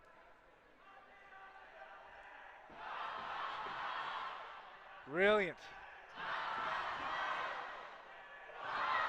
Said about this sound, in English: Speaking of brilliant, the crowd noise is taking off.